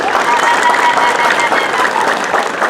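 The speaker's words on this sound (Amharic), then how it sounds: "እናንተም ከቻላችሁ እንዲደርሳቸው እስቲ አጨብጭቡላቸው።" A crowd applauds at a community association's holiday gift-giving gathering, producing loud, dense, sustained clapping that fills the whole stretch.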